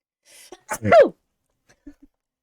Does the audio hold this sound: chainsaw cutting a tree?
no